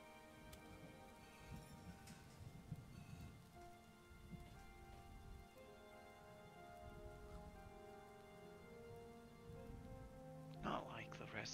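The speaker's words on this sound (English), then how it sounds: "No, the rain hasn't stopped." Rain falls steadily in the video game Starbound, a soft continuous patter with tonal background music layered over it and a brief brighter clatter near the end.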